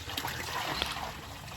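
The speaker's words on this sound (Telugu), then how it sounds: "బకెట్లు అయితే పోస్తుంది అనమాట." Hot water pours and splashes from a bucket indoors, a soft irregular trickle and splatter heard close but at low level.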